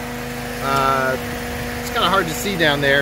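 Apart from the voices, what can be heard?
PT Cruiser radiator cooling fan running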